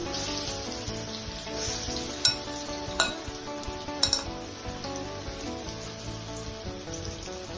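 Prawn fritters coated in cornflour and gram flour frying in hot oil in a home kitchen give a steady sizzle, broken by a few sharp clinks of utensils against the pan, with no talking.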